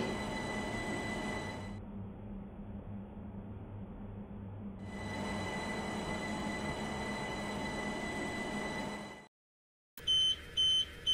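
A Class 377 train in a Roblox video game rumbles steadily, eases briefly, then surges again before cutting out, with a few short electronic beeps at the end.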